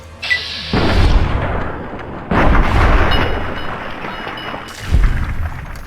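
Pistol shots during a street mugging in Freeside in Fallout: New Vegas, heard as a few heavy booming blasts that ring out and decay, loud and close, spaced a couple of seconds apart.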